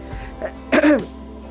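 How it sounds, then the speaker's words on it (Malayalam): A single rough, close cough from a person with a cold and hoarse voice, raspy and throat-clearing, preceded by a few faint breaths and small noises. "നല്ല ചുമയാണ് കേട്ടോ നല്ല ചുമയും ജലദോഷവും"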